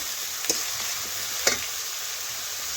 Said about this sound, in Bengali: দিয়ে আবারও দেখুন নাড়াচাড়া করে মশলার সাথে মিশিয়ে কিছুক্ষণ রান্না করে নিচ্ছি